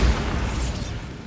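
Bombarda blast spell from Hogwarts Legacy going off as a single deep boom with a hissing burst that fades over about a second.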